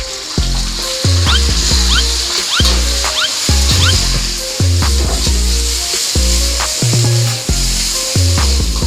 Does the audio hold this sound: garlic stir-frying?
yes